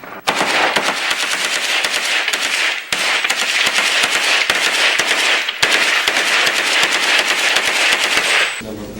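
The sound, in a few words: gunfire from rebels shooting in news footage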